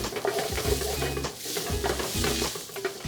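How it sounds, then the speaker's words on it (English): Garlic sautéing in a pan while braised beef short ribs are being prepared, heard as a soft steady sizzle under repeated stirring scrapes and utensil clinks against the pan. "now I'm going to add our garlic and just saute this out for about a minute"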